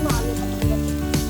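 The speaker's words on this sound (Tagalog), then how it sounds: "Let's saute it for 1 minute or until naaamoy niyo na po yung aroma ng lemongrass at ng ginger." Ginger, lemongrass and onions sautéing in a pan, a steady close sizzle with a voice talking over it.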